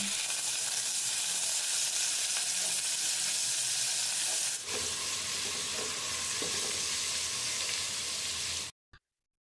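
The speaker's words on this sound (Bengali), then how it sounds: "পেঁয়াজটা আমার ব্রাউন কালার করে ভাজা হয়ে গিয়েছে" Chopped onions fry for khichuri in a pan, a steady loud sizzle that holds for several seconds with a brief shift midway and a sudden stop at the end, with no speech.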